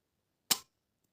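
A single sharp pop of a toy launcher firing, brief and close, in otherwise quiet surroundings.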